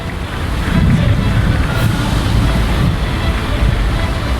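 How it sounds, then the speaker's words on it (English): Stormy sea in the video game The Pale Beyond, with loud broadband surf and wind churning steadily throughout, waves surging in dense, continuous washes with no speech over them. "Lightning flashes to the west, followed by rapturous thunder, underscoring the sounds of the sea."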